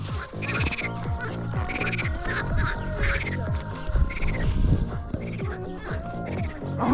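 Chorus of frogs at a rain-filled pond in Crimea, many overlapping croaks pulsing in quick rhythm, loud and near, with occasional bird squawks in the background.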